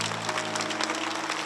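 A congregation applauds during a Catholic Mass homily, a short steady patter of many hands clapping at moderate level, with a low sustained hum beneath.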